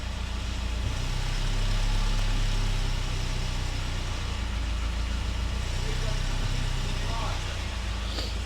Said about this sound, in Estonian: Esimest korda on auto õhus ja auto käib järelikult.